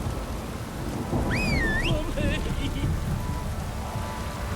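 Steady rain pours with a deep rumbling of thunder in The Witcher 3, a continuous wet wash throughout, while a high warbling call briefly cuts through the middle.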